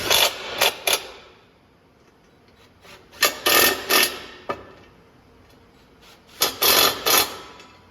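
A wrench ratchets on oil pan bolts of an LS engine in a 1968 C10, giving short clustered bursts of sharp clicking in three groups, close and crisp with quiet gaps between.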